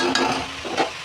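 Cabbage curry frying in a pan gives a soft sizzle under brief stirring scrapes, close and moderately loud, with no talk.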